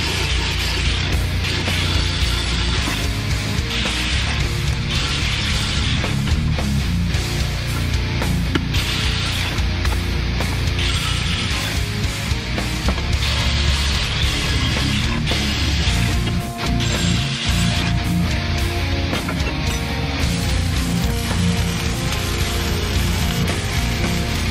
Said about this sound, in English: need to grind down these welds to make space for it